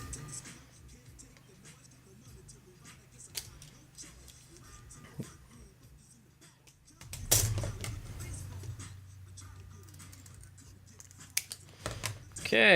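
A Lexan plastic sheet being cut in half for a homemade rear spoiler, with intermittent snipping and crackling cuts that grow louder and denser near the end, while someone speaks and handles material nearby.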